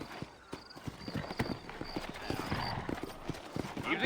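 Horse hooves clip-clop in a loose, uneven rhythm in the video game Red Dead Redemption, with faint voices and background noise mixed in at a moderate distance.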